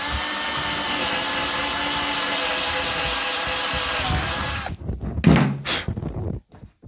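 A power drill drives screws into a wooden bed frame, whirring loudly and continuously for several seconds up close before stopping, followed by a few knocks and clunks of handling.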